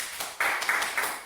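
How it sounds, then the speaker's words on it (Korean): Office staff applaud a promotion announcement at a company meeting, a short spell of faint, steady clapping from a small group. "모두 박수로 환영해주세요"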